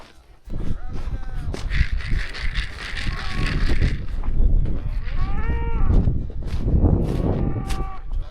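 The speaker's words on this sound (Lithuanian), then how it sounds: "net iš čia girdi karvės" Cows on a farm in Canada moo several times, long drawn-out lowing calls at moderate distance, with wind buffeting the microphone throughout.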